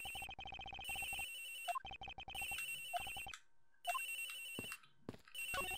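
A cell phone rings from inside a closed locker in the Ace Attorney Investigations: Miles Edgeworth video game, a repeating electronic ringtone with short gaps between bursts, loud and close with no talking.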